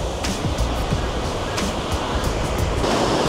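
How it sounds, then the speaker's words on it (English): River water pours over a weir in a continuous, loud roaring rush, with wind buffeting the microphone and no voices. "What a beautiful sight that is, that water just piling over there."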